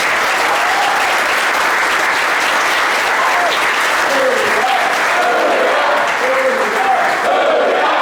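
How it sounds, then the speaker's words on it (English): Loud, sustained applause from a large crowd at a sea cadet graduation ceremony, steady and dense for about eight seconds with faint voices mixed into the clapping. "we need a round of applause for everyone"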